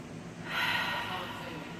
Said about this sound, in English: take a big breath